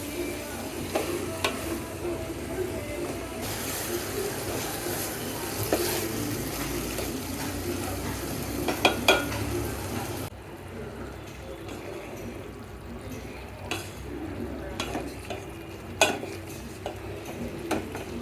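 Green vegetables and shrimp cook in a pan over medium heat, with a steady close sizzle, repeated stirring scrapes and light utensil clicks throughout, quieter after the midpoint.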